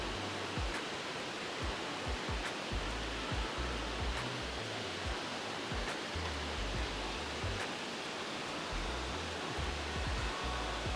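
Murray Falls in Girramay National Park pours and rushes, with its creek running past the base, a steady, dense wash of water noise that holds constant throughout with no voices.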